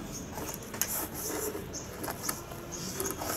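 Homemade kinetic sand mixed by hand, faint soft rubbing and gritty scraping with a few small clicks, close and quiet with no talking.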